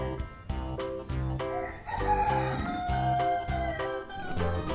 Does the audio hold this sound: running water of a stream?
no